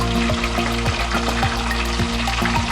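Pork chunks for litson kawali fry in hot oil in a pan or pot, giving a steady loud sizzle broken by rapid popping and spitting splatters, with no talking.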